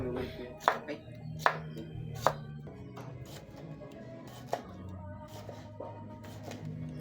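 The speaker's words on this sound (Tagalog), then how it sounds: "Yung pipino guys, hiniwa ko lang ng round slice." A knife cuts a cucumber into round slices on a board, a few sharp taps spaced irregularly, fairly quiet over low background hum.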